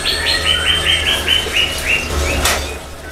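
Several birds chirp in an evening aviary, a run of short, bright, repeated tweets near the listener over a steady low background hum, with one sharper call near the end.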